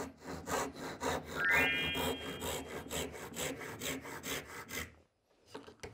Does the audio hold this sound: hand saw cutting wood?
yes